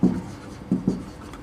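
Marker or chalk strokes on a board as a maths lesson is written out, a few short scratchy bursts spaced irregularly, close and soft.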